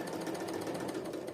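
A sewing machine stitches fabric along a curve for fabric art, a loud, close, continuous mechanical whirr with a fast, even pulse throughout.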